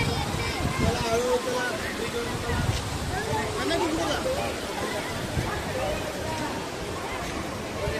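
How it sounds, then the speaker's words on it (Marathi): Heavy water pours steadily over a waterfall at a temple site, a dense continuous roar with crowd chatter and voices mixed in throughout. "हा एक झरा आहे, हा पण धबधबा आहे। इथं माणसं खूप एन्जॉय करताय, बघू शकता। अतिशय प्रचंड असं पाणी वाहतंय"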